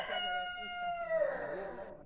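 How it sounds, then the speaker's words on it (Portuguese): Rooster on a rural farm in the Brazilian sertão crows one long, drawn-out call that rises and trails off at close range, with no talk over it. "Esse galo merece comer milho, porque esse galo ele canta mesmo."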